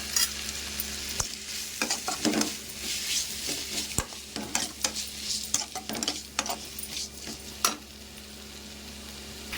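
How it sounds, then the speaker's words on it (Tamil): Tomatoes with rock salt sizzle steadily in a pan while a spatula stirs them, giving a continuous frying hiss broken by close scraping and occasional sharp clacks. "தக்காளி கொஞ்சம் வதங்கிறதுக்காக கொஞ்சம் கல்லுப்பு போட்டுக்கலாம்."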